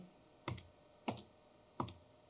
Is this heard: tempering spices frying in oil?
no